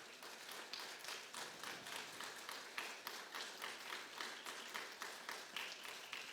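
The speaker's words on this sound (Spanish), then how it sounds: "Dale un aplauso al Señor" A church congregation claps during a worship service, a faint, distant wash of applause with a steady, pulsing rhythm that suggests clapping in time, and no clear voice on top.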